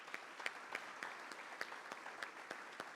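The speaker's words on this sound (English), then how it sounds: "I'd like to give another round of applause for all of our panelists and our moderators today." Audience applause for panelists and moderators at an electric vehicle summit, a soft, even patter of many hands with a few sharper claps standing out, fairly distant and steady.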